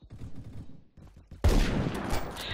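Sniper rifle fire in a shooting video game: a sudden loud, sharp blast followed by a dense roar of gunfire and reverberating noise that continues to the end, after quieter muffled game sounds.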